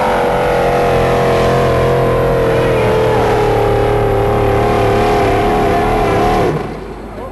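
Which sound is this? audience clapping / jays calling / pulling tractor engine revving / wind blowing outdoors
pulling tractor engine revving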